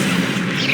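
A fire spell, Incendio, cast in the video game Hogwarts Legacy: a short, loud, dense whoosh of flame with a low rumble, lasting under a second.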